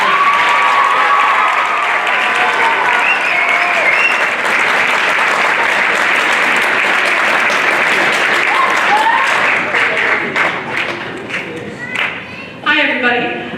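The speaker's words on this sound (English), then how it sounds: "give her another round of applause" Full audience applause at a Warren G. Harding school band winter concert: a loud, sustained wash of clapping with scattered cheers that thins into a few last claps, with a voice beginning over the tail.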